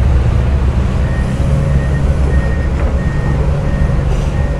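Ten-wheel dump trucks hauling dirt reverse while their loud diesel engines rumble, and a reversing alarm beeps at a regular pace over the heavy, continuous engine drone.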